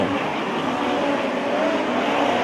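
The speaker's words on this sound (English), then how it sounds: "working to the inside of Dom as they race on through now with 2 laps to go" Midget race cars roar around the Macon Speedway oval in a USAC National Midget race, a loud, continuous engine drone that stays steady with no gaps and no commentary over it.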